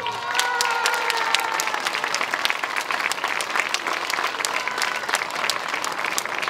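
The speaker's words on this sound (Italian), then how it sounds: "Facciamo un applauso forte ai vincitori" An audience at the Corrida del Sud award ceremony in Rocchetta Sant'Antonio applauds the winners, dense sustained clapping from a crowd with a few scattered cheers, steady and lively throughout.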